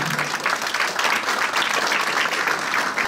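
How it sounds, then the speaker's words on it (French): Warm applause from a charity gala audience in Brussels welcoming Mireille da Silva to the stage, a dense, even wash of many hands clapping throughout. "sous vos chaleureux applaudissements"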